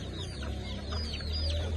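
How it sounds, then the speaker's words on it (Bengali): Full-grown chickens on a poultry farm cluck in a short burst of overlapping, nearby calls over a low steady hum. "দেখুন সবগুলো মুরগি কত বড় হয়ে গেছে"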